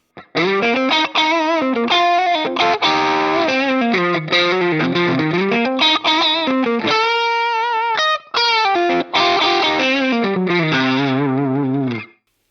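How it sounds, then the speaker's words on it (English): An electric guitar plays through a Fractal Audio Eternal Love drive model, based on the Love Pedal Eternity overdrive, at stock settings: a continuous distorted lead line with sustained notes and quick runs for about twelve seconds, no talking. "the Eternal Love based on the Love pedal Eternity. Let's just have a listen to it straight up at stock settings"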